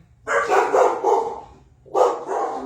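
Dogs bark in a few close, loud bursts, one run of barks followed by a short pause and then another, with no talk over them.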